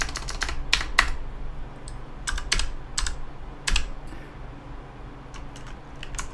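Typing on a computer keyboard during a long livestream: quick bursts of crisp clacking keystrokes in irregular clusters with short pauses between, close and fairly loud, no talking.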